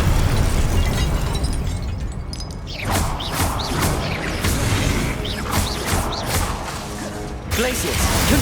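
Confringo blasting spells from the Hogwarts Legacy video game go off repeatedly, a series of loud bursts and crashes layered with spell-casting effects over a constant game soundscape.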